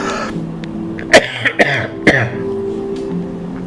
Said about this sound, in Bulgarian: Какво ражда в теб тази кашлица сега?